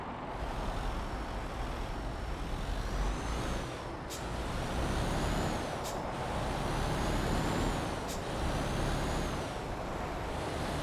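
An MAN truck idles steadily while its air brakes release three sharp hissing bursts at even intervals, close by with no talk.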